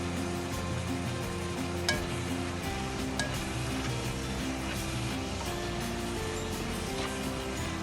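Tofu stir-fries with ginger and vegetables in a pan with a little oil and added water, sizzling steadily and closely throughout while a utensil gives occasional light clinks and stirring scrapes.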